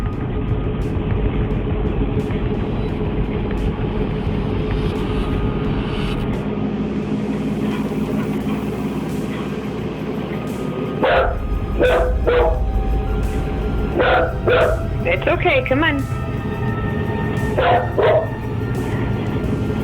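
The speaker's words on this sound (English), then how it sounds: "He seems to be looking at the wall just in front of him and then starts aggressively barking." A dog standing at a kitchen entrance barks aggressively in several sharp bursts of close, loud barks during the second half. Before the barking is a stretch of steady indoor background hum, and a person speaks softly and reassuringly.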